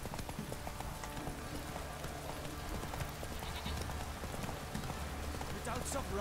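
Horse hooves clop along in The Witcher 3: Wild Hunt, a steady rhythmic gait close by, blended with falling rain and soft game music, with some talking underneath.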